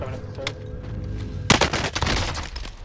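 Gunfire erupts in Call of Duty Modern Warfare, a sharp crack followed by rapid automatic bursts and scattered shots after a quieter stretch of ambient game noise.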